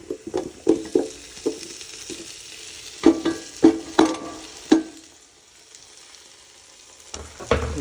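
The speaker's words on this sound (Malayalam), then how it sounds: "ഇനി നമുക്ക് ഇതിനകത്ത് കുറച്ച് ഉരുളക്കിഴങ്ങ് ഇടാം" Potatoes go into a pan of chicken curry and fry there. There is a close sizzle with a series of sharp scraping and stirring knocks in two clusters, then a quieter stretch of soft frying before a final stir.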